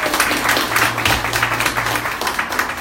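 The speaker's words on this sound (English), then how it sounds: "please give him a big round of applause" Applause from a meeting audience at an Agricultural University enterprise event in Krakow, steady and moderately loud throughout, with a low hum underneath.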